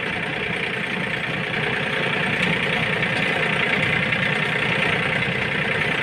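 A Yanmar 39 tractor engine runs steadily while pulling a harvester trailer, a loud, constant rumbling drone heard from the seat, with no talk.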